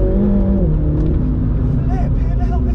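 A MINI GP3 engine pulls hard under acceleration while driving, a steady loud drone with rising harmonics close by, filling the cabin continuously throughout.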